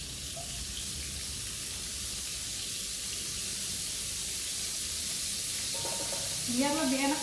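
Margarine, about two teaspoons, sizzles steadily in a hot wok as the base for a bolognese sauce, a continuous close hiss with brief clinks of utensils near the end.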